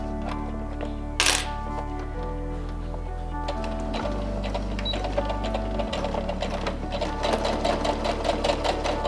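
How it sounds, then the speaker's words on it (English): A sewing machine stitches slightly thicker fabric in a steady whirring run, its motor pitch stepping between speeds as it reverses at the start and end, close and loud with no talk. "Slightly thicker fabric, so the machine's making a bit more noise."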